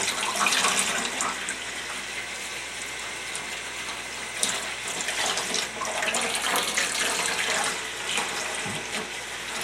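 Tap water runs steadily over squirrel meat being washed in a sink, a continuous close splashing gush with small irregular spatters as the pieces are handled.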